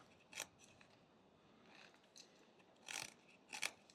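A small knife slices into wood while whittling a sitting bear, giving a few faint, brief scraping cuts separated by quiet pauses.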